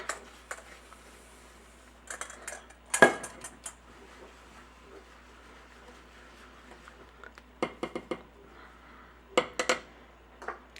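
A spoon stirs oats into a thick no-bake chocolate cookie mixture in a bowl, making scattered close clinks and scrapes in irregular bursts with quiet pauses between them.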